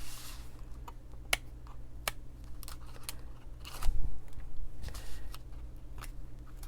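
Backing paper peeled off strong adhesive tape with a Take Your Pick tool while making a stamped card, giving scattered dry ticks and crackles over a steady low hum, with a fuller rustling tear near the middle.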